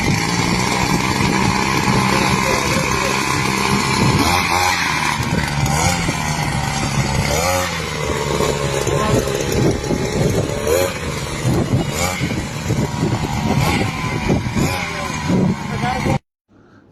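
A small engine-powered farm weeder, started by pulling its starter rope, runs loudly and close with a buzzing, revving drone, while someone talks over it before it cuts off.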